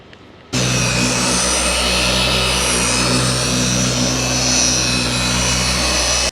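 An electric car polishing machine spins up for ceramic coating prep on a 2025 Toyota 4Runner, starting abruptly after a brief quiet moment, then running as a loud, steady motor whine and hum until it cuts off at the end.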